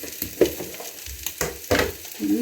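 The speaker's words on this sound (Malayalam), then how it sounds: "നമ്മുടെ തേങ്ങാക്കൊത്തൊക്കെ അതിൽ കിടന്ന് നല്ലോണം ഫ്രൈ ആയിട്ടുണ്ട്" Coconut pieces frying in a pan for a Perumbavoor-style beef fry, a steady close sizzle with several sharper crackles and pops standing out.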